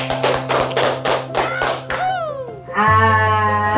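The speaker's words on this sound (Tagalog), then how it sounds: "Palakpak!" Several loud, spaced claps ring out at an awarding ceremony, followed by voices and a sustained tonal sound.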